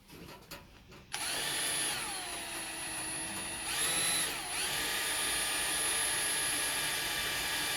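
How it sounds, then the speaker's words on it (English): A power drill bores a pilot hole through a Mk1 Escort steel dashboard, a steady high-pitched whine that holds for several seconds with a brief surge in pitch partway through, close and continuous. "let's get a pilot hole in here"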